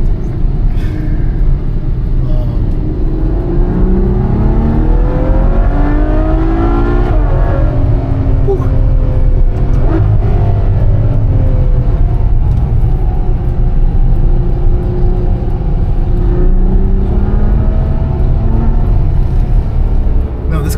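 A car engine revs and accelerates with a steady low rumble throughout, rising harmonic sweeps as it gains speed, loud and close, with a person talking over it.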